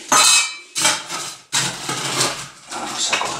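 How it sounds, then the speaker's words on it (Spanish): Crushed ice is tipped into a short, low glass in bursts, a few separate rattling, clinking pours, each loud and close, with brief pauses in between. "vamos a echarle el hielo picado"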